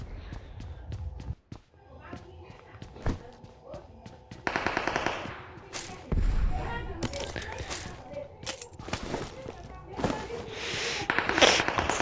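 Rapid bursts of automatic gunfire from a shooter video game crackle in repeated volleys with short pauses between them, loud and close, while someone talks over the action.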